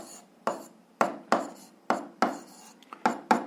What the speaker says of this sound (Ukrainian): Я запишу як друга дія.